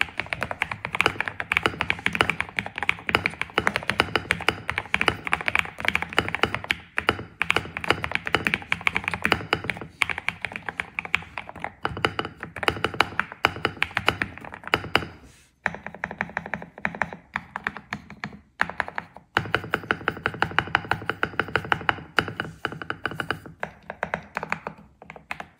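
Fast, steady typing on a Cidoo Nebula Epomaker mechanical keyboard resting on a wooden table, dense close-up key clacks in continuous bursts with a few brief pauses, no talking.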